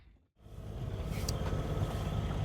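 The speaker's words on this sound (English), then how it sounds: "the noise you can hear is the engine" A cruiser's boat engine running steadily, a continuous low rumble that rises after a brief dip and holds at a moderate, fairly close level, with no talk.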